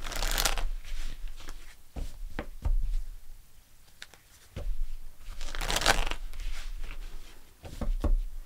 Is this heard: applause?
no